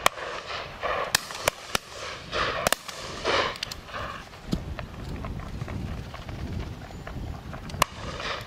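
Shotguns fire at a driven pheasant and partridge shoot in the Dorset countryside: several sharp, scattered bangs at irregular intervals, some close and some farther off, over outdoor background noise.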